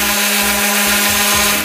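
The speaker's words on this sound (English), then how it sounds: "And this is the board that I'm sanding right now." A power sander grinds steadily against a plywood board, a loud continuous abrasive whir with a low motor hum and uneven rubbing pulses.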